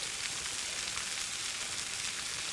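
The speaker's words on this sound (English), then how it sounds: "right into my pan goes the shallots" Shallots sizzle in a hot pan, a steady bright hiss of frying that stays even and close throughout.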